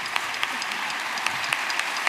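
Audience applause at an Asturian sports gala, a dense, even wash of clapping with a few sharper individual claps standing out, continuous and fairly loud throughout.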